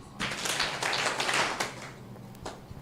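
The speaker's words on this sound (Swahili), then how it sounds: "Inclusive clap." Children doing a group clap in a session at a child protection conference in Africa, a burst of quick, dense clapping that thins out into a few separate claps before fading.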